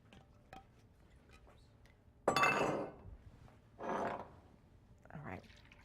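Milk poured into a turkey and stuffing casserole, heard as a few bursts of liquid splashing and trickling, the first loudest and most abrupt, followed by two softer pours over a quiet kitchen background.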